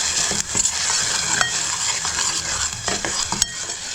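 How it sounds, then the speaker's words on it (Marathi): Spice paste sautéing in hot oil for a spicy croaker (dhoma) fish masala, with a steady loud sizzle and repeated scraping stirs and clinks of a spoon against the pan, no voices. "आपण मस्त परतवून घेतो तेलावर."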